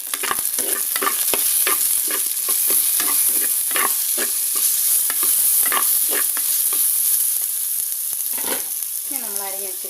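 Tomato and tamarind sautéing in oil for a taro-leaf dish, a steady loud frying sizzle with rhythmic spoon-stirring scrapes repeating about twice a second, near and without speech.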